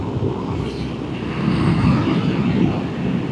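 A long freight train hauled by several traction units and loaded with shipping containers rumbles past as a loud, steady low roar that swells slightly midway.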